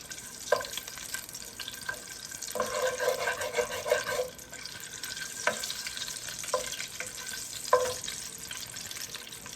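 Eggs frying lightly in a pan for an egg and eggplant dish, a steady broadband sizzle with occasional sharp ticks and bursts from stirring or spatter, continuous and close.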